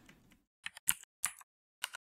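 Mechanical-keyboard typing sounds from the Mechvibes app, four or five crisp, isolated keystroke clicks spaced irregularly in quiet, close and clear.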